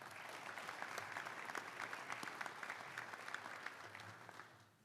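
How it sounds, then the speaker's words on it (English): An audience at a high school Hall of Fame induction ceremony claps in a sustained round of applause filling the hall, steady for several seconds before tapering off at the end, with no speech over it. "please give Kane Farabaugh a round of applause as a thank you for being our MC for tonight's events."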